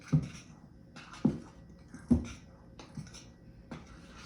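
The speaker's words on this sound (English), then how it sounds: "And I'm going to mix this together" About 3.5 teaspoons of salt mixed into bread dough ingredients for sesame Italian sandwich bread, heard as soft, close scraping strokes repeating roughly once a second, quiet, with no talking.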